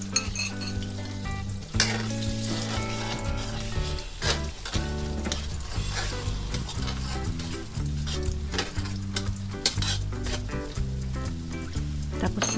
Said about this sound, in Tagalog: Halu-haluin lang po natin para mas maging maalsa siya.